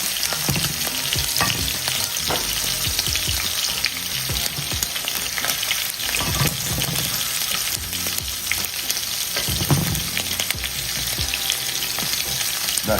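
Shrimp fry in oil in a pot under a splatter guard for escovitch shrimp. The oil crackles and bubbles loudly and continuously, with occasional stirring knocks.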